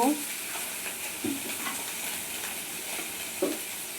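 Cumin seeds fry in a little hot oil in a wok, giving a close, steady sizzle with a couple of soft utensil knocks.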